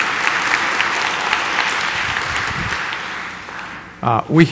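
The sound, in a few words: audience applause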